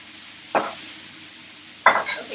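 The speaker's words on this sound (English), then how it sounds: "In the middle of the paella, you're going to add your green beans." Green beans cook in the middle of a traditional Spanish paella pan, two distinct scraping, sizzling bursts about a second apart rising over a quiet background hiss.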